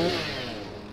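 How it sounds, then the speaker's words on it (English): A chainsaw weapon in Magicka 2 idles with a buzzing mid-pitched engine drone that starts loudest and slowly fades over a short moment, no talking. "Got my chainsaw."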